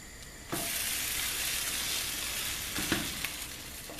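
Egg-soaked bread sizzles steadily in a pan, a French toast and Turkish toast hybrid, with a bright continuous fry that jumps up after half a second and a few small pops near the end, no voices.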